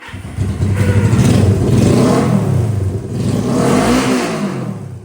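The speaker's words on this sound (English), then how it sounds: "it's time to go gas on, key on, and push the button" A classic Honda CB350 motorcycle engine fires up and revs, rising and falling through two or three throttle blips at close range, with no talking.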